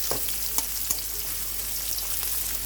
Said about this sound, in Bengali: গরম সয়াবিন তেলের মধ্যে আদা কুচি, রসুন কুচি, পেঁয়াজ কুচি দিয়ে নিলাম। এখন ভেজে নিচ্ছি।